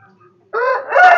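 A chicken squawks and protests loudly in close-up while being dosed with a rolled betel-leaf bolus of crane vakka paste pushed down its throat, a short harsh burst of distressed clucking after near silence.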